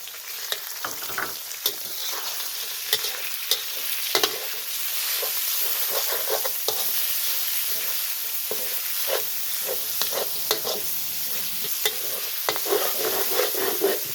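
Minced pork stir-fried with garlic sizzles steadily for a long stretch, while a spatula makes repeated scraping and tapping strokes against the pan, close and fairly loud.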